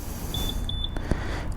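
A 2021 Yamaha XMAX 300 scooter's key fob lock gives a quick series of short, high electronic chirps, four little beeps in a row, followed by a couple of soft clicks over background noise.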